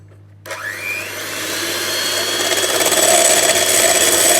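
Electric mixer whisking egg whites into a meringue for chocolate mousse, starting abruptly after a brief quiet moment and then whirring loud and steady, rising slightly in strength as it runs.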